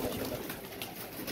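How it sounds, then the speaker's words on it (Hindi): Sialkoti pigeons coo low and close in a soft, continuous murmur of throaty calls over a slightly noisy background, with no one speaking. "ये कबूतर है माशाल्लाह, चेक करें।"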